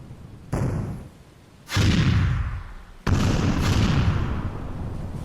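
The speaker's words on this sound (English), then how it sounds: "We heard cannon fire?" Cannon fire sound effect played during a tabletop role-playing session: three loud, heavy booms, each with a broad rumbling tail, arriving at uneven intervals with no talk over them.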